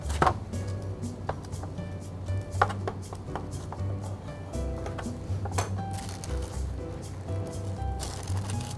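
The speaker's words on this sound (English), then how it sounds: "So I'm just gonna cut it open here and cut them in half" A knife cuts through baked sweet potatoes on a board. Several soft taps and thuds land at an irregular pace, close by, with no talking.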